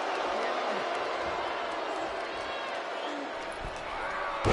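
Steady, dense crowd noise from an arena wrestling match in the WWE 2K24 video game fills the whole stretch at moderate level, a continuous roar with faint thuds and cheers mixed in.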